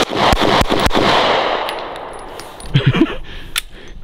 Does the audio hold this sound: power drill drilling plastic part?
no